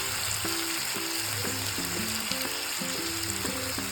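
Chicken fries in a pan with a steady, close sizzle and crackle, with occasional stirring; no voices.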